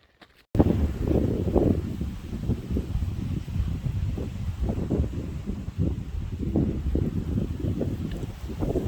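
Wind at a primitive state park campsite near Lake Mineral Wells, loud gusts buffeting close and continuous after a sudden start, with rumbling bursts that rise and fall.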